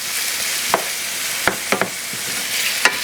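Cabbage, yams and carrots cook in hot olive oil, giving a steady sizzle broken by a few sharp utensil taps and stirring scrapes, with no talking.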